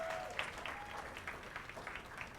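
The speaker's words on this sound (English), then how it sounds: "Let's give them one more round of applause." An audience claps in sustained applause, a dense patter of many hands, moderately distant and fairly even for a couple of seconds.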